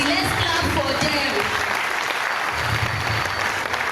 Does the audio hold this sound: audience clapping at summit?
yes